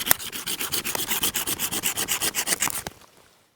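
Pocket hand chainsaw, a chain pulled back and forth by hand, cutting through a tree branch outdoors: a close, fast rhythmic rasping of steady strokes that stops abruptly near the end.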